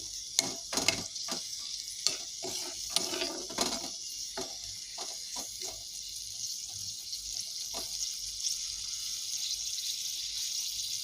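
Water poured into a pan of frying beetroot and carrot, bursts of sharp crackling and stirring clatter that settle into a quieter steady simmering hiss, no talking.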